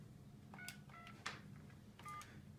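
Faint touch-tone beeps from dialing a corded telephone, several short keypad tones spaced irregularly over a low background hum, with no voices.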